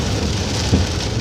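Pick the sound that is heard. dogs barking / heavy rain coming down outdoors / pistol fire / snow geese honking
heavy rain coming down outdoors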